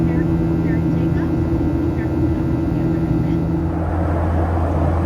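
Cabin noise aboard a 24-year-old United Boeing 737-800 during takeoff: a loud, steady engine drone and airflow roar with strong low hum, continuous throughout, heard from inside the cabin with no voices.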